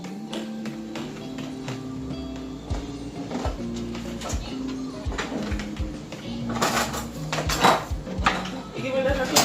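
A spoon stirs and clinks against a pot of Irish moss drink, repeated ringing metallic taps and scrapes at a steady, busy pace, with a voice talking over it now and then.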